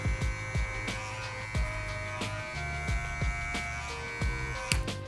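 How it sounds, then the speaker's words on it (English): An electric hair clipper buzzes steadily during a slick-back skin fade haircut, a constant electric hum broken by repeated short clicks and taps of the blade against the head. "Bring back my clipper and kind of just soften up anything I see"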